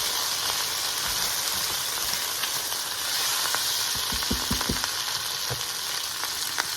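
Onions sizzle and fry steadily in a pot as they caramelize for loaded baked potato soup, a constant close hiss with occasional soft pops and stirring knocks.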